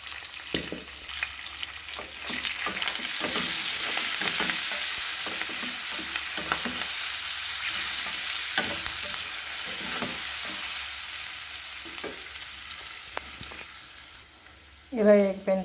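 Turmeric and asafoetida sizzle in hot oil for a Telugu-style tempering, a steady crackling fry with occasional stirring scrapes. A louder clatter comes near the end.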